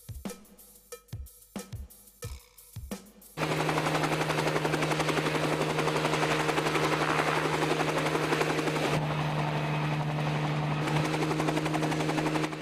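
A helicopter flying over the Bungle Bungle range starts with a few separate rotor thumps, then settles into a loud, continuous close-up rotor chop and turbine whine that holds steady to the end.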